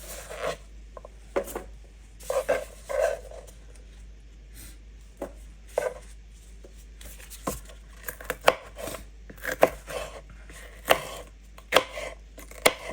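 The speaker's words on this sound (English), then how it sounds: "this is green pepper that I'm chopping up, and I'm chopping it up in small cubes" A knife chops green pepper into small cubes on a cutting board, sharp irregular taps that come in bursts and quicken toward the end, close and distinct with no talking.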